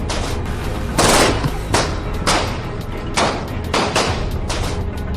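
A rapid series of loud, sharp pistol shots fired at point-blank range, several in quick succession over continuous dense background noise.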